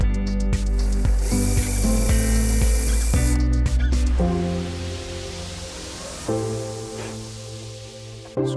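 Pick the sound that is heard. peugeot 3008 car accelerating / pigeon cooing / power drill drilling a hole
power drill drilling a hole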